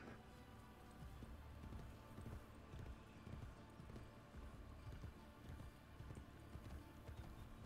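Horse hooves clip-clop in the video game Assassin's Creed Brotherhood, a rhythmic gallop of fairly loud hoofbeats with a faint whinny over a steady game-ambience bed.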